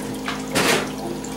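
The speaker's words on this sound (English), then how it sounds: "It's just a filling of the ice trays." Tap water gushes briefly into ice trays in a home kitchen, a short loud splashing rush swelling and fading within about a second over a low background hum.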